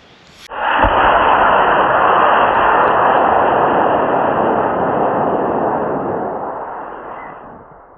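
A 3D printed model rocket motor igniting at a launch outdoors in Maine, a sudden loud roaring rush that holds steady for several seconds, then gradually fades as the rocket climbs away.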